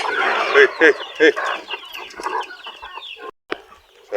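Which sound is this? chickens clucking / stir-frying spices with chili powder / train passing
chickens clucking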